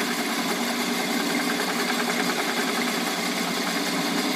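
A metal lathe fitted with a carbide cutting bit turns a piece of oak, giving a loud, continuous motor whir with a steady grinding cut and no pauses.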